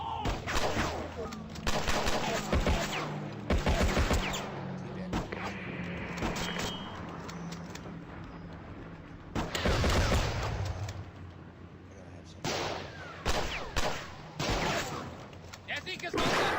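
Heavy gunfire rages in a Flash video game battle, dense machine-gun bursts and shots rattling almost continuously, with shouted voices in the mix and brief lulls between volleys.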